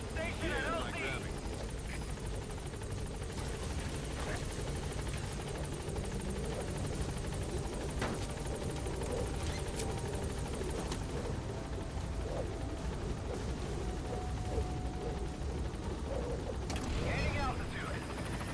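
Helicopter gaining altitude in Metal Gear Solid V, a steady rotor drone under near-constant game voice chatter throughout.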